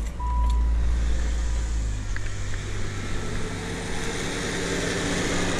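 The engine of a 1997 Saturn SL2 with an overheating fault idles steadily after starting, a low continuous hum, while the cooling fan whirs along at close range.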